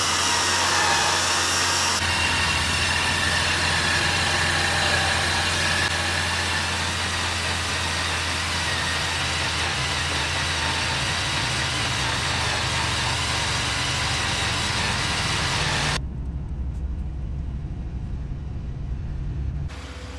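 A Warn VR10 Eco electric winch on a Jeep spooling in new synthetic line, a steady, loud motor whine and grinding hum that runs continuously, shifting tone near the end with the engine rumbling underneath.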